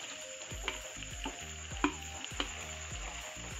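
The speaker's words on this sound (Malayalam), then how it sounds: "അടുത്ത് നമ്മൾ ഇതിലേക്ക് ബോൺലെസ് ചിക്കൻ ഇട്ട് കൊടുക്കാം." Boneless chicken fries in a pan for a green chilli chicken dish, a steady soft sizzle broken by a series of sharp clinks and scrapes as the pieces are stirred.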